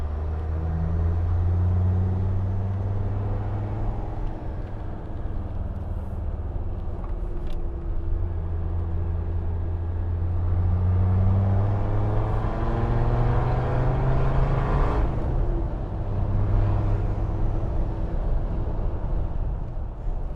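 A custom Rimini Red Land Rover Defender 90 cruises along with a steady, close engine drone and road rumble, rising and falling gently through gear changes with no talking.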